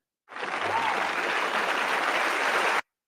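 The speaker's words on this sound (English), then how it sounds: "I thought I had an applause button on here." A canned applause sound effect fired from a soundboard button, starting abruptly, holding a steady dense wash of clapping and cheering for about two and a half seconds, then cutting off sharply into silence.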